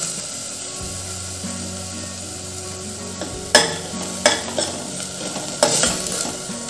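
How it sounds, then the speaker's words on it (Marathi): Ground spices such as coriander-cumin powder and turmeric being stirred and fried in a pan on low gas for a green urad dal: a soft steady sizzle, then a few sharp scraping strokes of the spoon near the end. "आता हे सर्व छान आपण कमी गॅसवरच परतून घेऊ"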